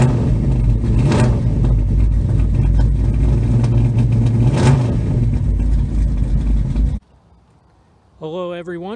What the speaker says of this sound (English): Car fires immediately, runs very, very well.